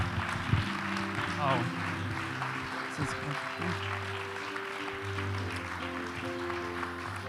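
Audience applause at a 2017 Minneapolis mayoral candidate forum, a sustained round of clapping throughout with a person speaking over it and a short exclamation.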